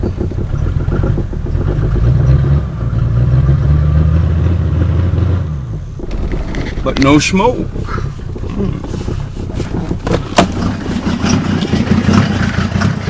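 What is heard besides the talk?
1990 Mercedes 300D engine running without catalytic converter or muffler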